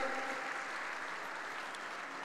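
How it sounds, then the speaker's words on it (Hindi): A crowd claps steadily at an outdoor political rally in Ratnagiri for Narayan Rane. The applause is a dense, even patter, heard from a distance and fairly faint throughout. "जोर से ताली बजाओ नारायण राणे के लिए"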